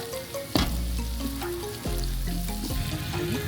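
Whole dried red chillies frying in a pan at an outdoor picnic cook-up: a loud, continuous sizzle up close, with a few sharp knocks and a low background hum running underneath, no voices.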